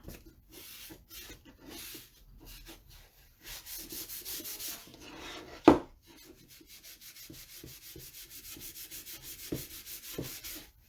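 Hand rubbing wax into wooden furniture, producing soft repeated scrubbing strokes in short rhythmic bursts, close and fairly quiet, with one sharp knock partway through.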